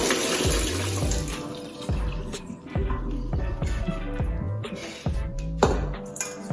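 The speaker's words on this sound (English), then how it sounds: "Then just dump out the water." Water splashes and pours in repeated gushes, sloshing and gurgling as rinse water is tipped out of a container of sea moss, fairly close and loud.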